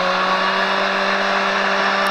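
A race car on a circuit with a sustained, loud, steady engine drone and strong tonal whine, heard close up without any voices.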